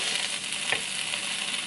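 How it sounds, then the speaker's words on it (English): Eggplant sautés in a pan over medium-high heat, giving a steady, close sizzle that continues throughout, with one brief stirring scrape near the middle. "So I've been sauteing the eggplant"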